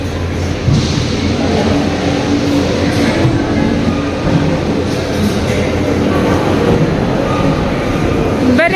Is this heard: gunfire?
no